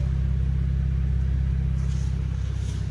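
A BMW M135i Steptronic engine runs close by with a deep, steady rumbling throb that holds at a constant pitch rather than climbing sharply.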